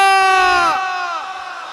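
A crowd at an Islamic sermon gathering shouts a takbir chant in unison, one loud sustained group cry that slowly fades out over under two seconds.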